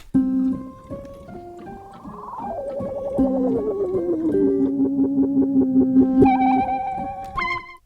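A synthesized instrument plays gliding tones that repeat and trail off in echoing Space Echo delay, the repeats overlapping and swelling before a bright final note.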